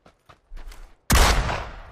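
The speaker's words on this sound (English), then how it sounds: "Best shotgun ever made by humans in history" A single loud shotgun blast from a video game cracks out sharply and decays over about a second, preceded by a few faint softer game sounds.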